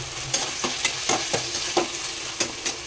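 Homemade ginger garlic paste sizzles steadily in hot oil in a pan for pepper chicken, with a spatula scraping and stirring in irregular strokes over the continuous close frying hiss.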